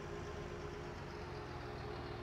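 A tractor idles steadily while parked on a grass margin beside a farm track, a constant low engine rumble with a faint tonal hum, close and unbroken throughout.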